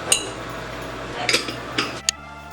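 A metal lid clinks and rattles onto a pot of simmering meat sauce for lasagna, a few light scattered clanks over a quiet steady hum, the last tap sharp and brief.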